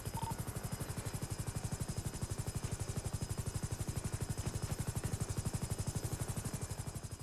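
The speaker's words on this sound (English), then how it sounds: "We're in the air, so at least I'm safer in a helicopter." Helicopter in flight heard from inside, a loud continuous rapid rotor thump with steady turbine whine throughout, no talk.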